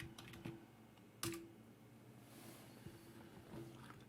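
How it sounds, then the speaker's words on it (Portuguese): A computer keyboard is tapped with a few sparse, quiet keystrokes, one sharper click standing out, against a faint background hum. "eu vou dar um duplo clique e vou digitar dashboard"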